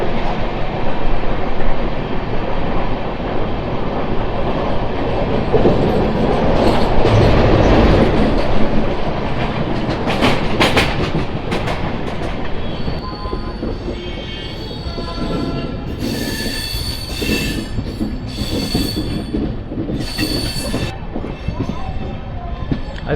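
The Charlapalli Superfast Express, number 12603 from MGR Chennai Central to Charlapalli, runs through Nellore South station without stopping. Heard from on board as a continuous loud rumble and rhythmic clickety-clack, with higher wheel squeals in the later stretch.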